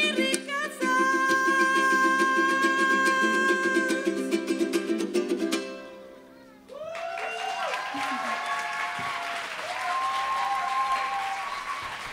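Audience applause at a festival after a sung poetry performance: a held musical note and tones ring out and fade, then a crowd breaks into sustained clapping with scattered cheers.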